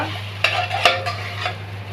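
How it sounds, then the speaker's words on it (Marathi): Ginger garlic paste and onion sautéing in a pan for dal khichdi, a low steady sizzle broken by several spatula scrapes and taps, with a constant hum beneath and no voices. "आलं लसूण पेस्ट घातली आहे तर चांगलं परतून घ्यायचं आहे, त्याचा वास जाईपर्यंत।"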